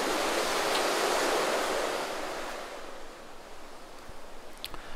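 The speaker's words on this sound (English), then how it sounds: "And I also did this with some waves and seagulls here." A sampled bed of ocean waves washes in as a loud surf swell and then recedes, leaving a softer hiss, used as a music production layer. No distinct gull cries stand out.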